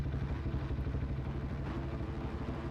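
Several 250-class dirt bikes in a supercross video game rev at the starting gate before a heat, their engines making a loud, steady, buzzing drone that hardly changes for the whole stretch.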